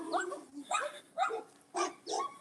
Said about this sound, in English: They're just barking at the dogs behind us.